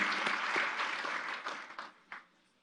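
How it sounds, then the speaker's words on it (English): An audience at a live event claps for a group of children, a dense wash of applause that holds steady, then thins out and fades to a few scattered claps. "Let's give our applause for the little angels."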